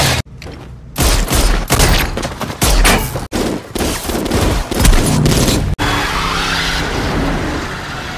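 A gangster film shootout unfolds in a narrow alley with loud, rapid volleys of gunfire, mixed with roaring car engines and screeching tires, all close and intense.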